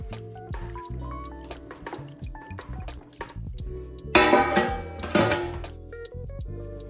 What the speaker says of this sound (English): Lastly, I'm gonna add 2 cups of water, and then just let this simmer for about 4 hours.